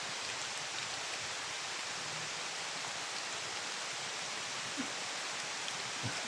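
A downpour of heavy outdoor rain hisses steadily and evenly throughout, with a couple of faint low knocks near the end and no one talking.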